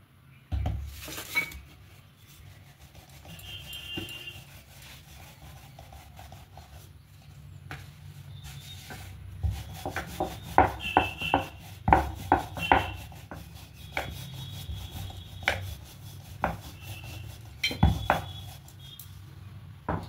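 Cheese paratha dough is rolled out with a rolling pin on a flour-dusted surface: soft rubbing strokes over a low rumble, broken by irregular close wooden taps and knocks that grow busier midway.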